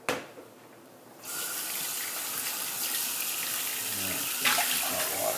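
Hot water runs from a tap into a sink beside a shaving setup, a steady gushing stream that starts after a brief quiet moment and swells slightly louder toward the end.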